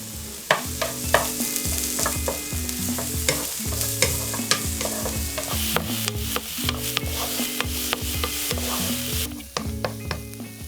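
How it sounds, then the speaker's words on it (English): Diced onion fries in melted butter in a pan, a steady sizzle broken by repeated scraping strokes of a utensil at a regular pace, close and fairly loud, with no speech. "add half a diced onion and fry until it's soft and a little bit translucent"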